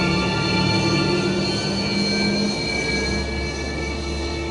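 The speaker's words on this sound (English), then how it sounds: "the sound, low roar of rotating turbines turning into a shrill hissing" Sukhoi Su-27 fighter jet turbines hold a steady, loud roar with high whining tones gliding across it, a continuous engine sound with no voices.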